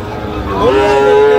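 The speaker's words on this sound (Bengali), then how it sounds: "গরু আর গরু" A Sahiwal bull at a cattle market lets out a single loud, drawn-out moo, rising from a low grunt into a sustained tone, close by over background crowd murmur.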